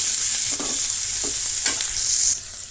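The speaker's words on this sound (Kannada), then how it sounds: "ಸ್ವಲ್ಪ ಕರಿಬೇವನ್ನು ಸೇರಿಸ್ತಾ ಇದ್ದೀನಿ. ಇಷ್ಟು ಫ್ರೈ ಆಗಲಿ." Mustard seeds, onions and curry leaves frying in a pan for a mung bean dal, with a steady bright sizzle and a few soft scraping stirs throughout.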